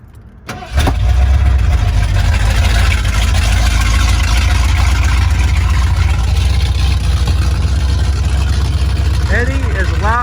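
A 1987 Ford Bronco XLT with a carbureted engine cranks and catches, then settles into a loud, steady, high idle with a deep rumble, recorded close with faint sounds near the end.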